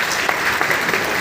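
An audience at an indoor event applauding, with dense, loud, continuous clapping throughout a short burst.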